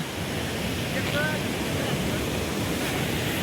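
Bhivtas waterfall, a hidden falls in Surgana taluka, roars as a steady broadband rush with no let-up. A faint brief tone sits over it, and no one speaks.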